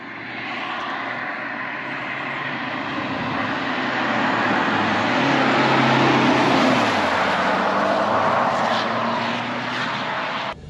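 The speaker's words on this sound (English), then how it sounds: "This bit of road we're going down now is a really testing bit of road, very badly surfaced, subsided in places" A BMW 320d M-Sport Touring (F31) drives along a badly surfaced, subsided road, heard from inside as a broad continuous rumble of road and tyre noise with a low engine drone. The sound swells slightly midway and carries no speech.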